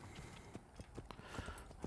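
A horse in Assassin's Creed clip-clops along in a steady run of quiet, evenly spaced hoof strikes, with no voices over it.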